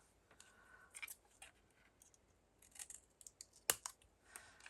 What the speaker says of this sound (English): Let's cut off a little bit more, but let me get my sticky scissors.